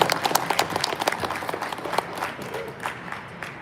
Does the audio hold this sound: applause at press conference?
yes